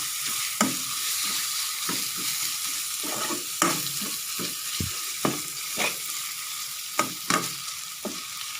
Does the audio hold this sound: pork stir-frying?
yes